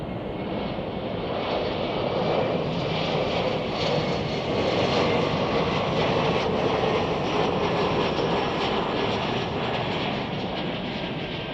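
An American Airlines jet in retro livery taxis at Chicago O'Hare, producing a loud, steady engine roar with a constant whine that fills the whole stretch and never fades or breaks.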